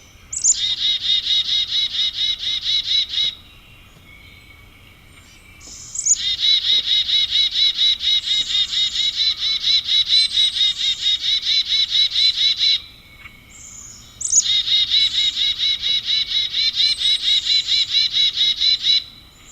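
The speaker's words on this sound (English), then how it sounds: "So that's the chickadee call with a flock identification and kind of the predatory threat D aspect of it." A chickadee gives its call in three long bouts, each a quick string of repeated buzzy, high dee notes signalling flock identity and a predator threat. The bouts are loud and close, separated by short pauses of quiet.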